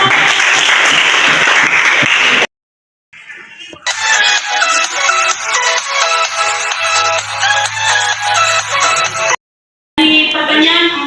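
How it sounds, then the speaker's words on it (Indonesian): Listeners clap at the end of a presentation, a short burst of applause that cuts to silence. Sharp, rhythmic claps follow with a low tone beneath them, and a voice comes in after a brief gap. "Tepuk tangan dulu"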